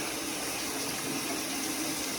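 Tap water pours steadily into a bucket, making a constant rushing splash at moderate volume with no voices.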